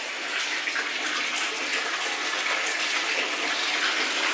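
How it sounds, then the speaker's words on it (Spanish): A running jacuzzi tub in a darkened hotel room, a loud, constant rush of gushing, bubbling water filling the space with no pauses and no voices. "es un jacuzzi."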